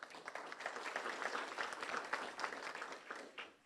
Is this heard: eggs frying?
no